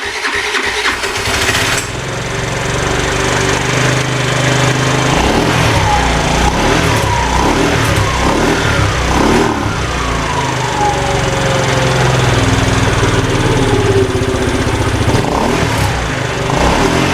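A 4-stroke scooter engine with worn piston rings, overdue for new pistons, starts up and runs continuously at a loud, close idle with rough, uneven surges and a few rising revs.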